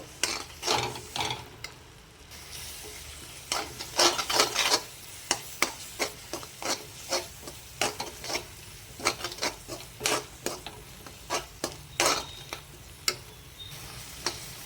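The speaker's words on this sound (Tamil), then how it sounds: "மாம்பழத்தோட நெய்யோடு நல்லா மிக்ஸ் பண்ணி நல்லா வணக்கி விட்டுக்கலாம்" Mango, grated coconut and ghee being stirred in a pan, a steady run of sharp scraping taps from the spoon against the metal with a faint sizzle underneath, close and fairly loud, no talking.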